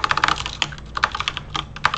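Quick keystrokes on a computer keyboard clatter in an irregular burst of close, crisp clicks, with no one talking.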